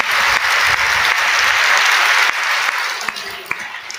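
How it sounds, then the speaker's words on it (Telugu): A congregation at a Christian sermon breaks into loud, close applause that holds steady for a couple of seconds, then thins out into a few scattered claps. "చప్పట్లు కొట్టి దేవుని మహిమపరచు"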